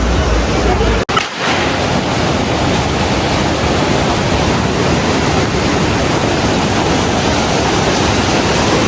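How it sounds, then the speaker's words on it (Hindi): The Alaknanda river rushes past in the Himalayan mountains near Kedarnath, filling the air with a loud, steady roar of broadband water noise that breaks only once with a brief dropout. "देखो अलकनंदा नदी बहती हुई"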